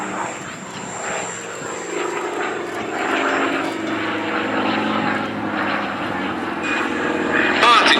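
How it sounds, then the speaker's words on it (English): A piston-engine fighter aircraft, an ex-Iraqi airframe, drones overhead at the Duxford Battle of Britain Airshow 2024, growing louder over several seconds while a voice talks over it. "the ultimate in piston engine fighter technology"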